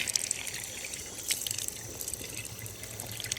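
Water trickles and drips steadily from a drinking fountain in a park near Modena, Italy, with a few brighter splashes, close and fairly faint, and no voices.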